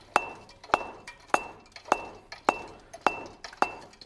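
Treadle hammer striking hot steel on an anvil while forging an oak leaf hook, sharp ringing metallic blows in a steady rhythm, about eight strikes spaced half a second apart, each followed by a lighter rebound tap.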